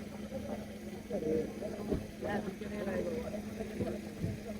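A used 2009-model car for sale at a used car market in Riyadh, its engine running with a steady low idle hum beneath nearby talking.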